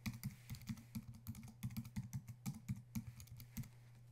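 Typing on a computer keyboard while entering a university library name into a search settings page, a steady run of close, crisp key clicks in an uneven rhythm, with no talking.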